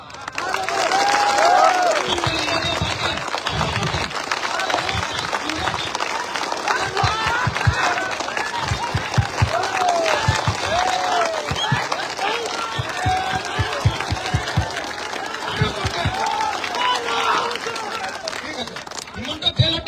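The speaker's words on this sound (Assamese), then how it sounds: "যদি ভাল হয় একেলগতে হাত তালি এটা দিয়ক" A large crowd at a rally claps and cheers in a sustained burst of applause, with loud voices talking over the clapping.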